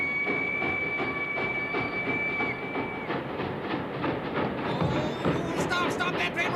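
A cartoon train runs along its rails, a continuous rumbling clatter with rhythmic clicking wheels that persists throughout, mixed with other scene sounds and a tonal whine.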